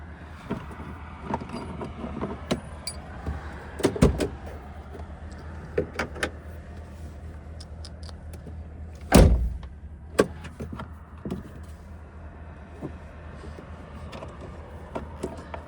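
A truck cab door thuds shut once, loud and close, with a few lighter clicks and knocks before and after against a steady low rumble.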